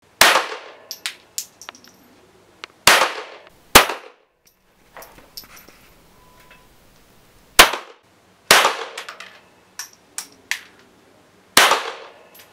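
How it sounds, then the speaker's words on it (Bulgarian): Sharp, loud single shots from a small-caliber Ruger pistol ring out at an indoor range, spaced irregularly with several quick pairs, each crack followed by a short reverberant tail and faint clatter. "Вени реши да пробва първо с малокалибрен Рюгер."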